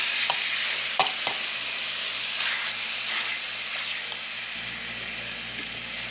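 Boneless pork loin frying in canola oil with homemade barbecue sauce, a continuous close sizzle and hiss with a few sharp utensil clicks near the start and no talking.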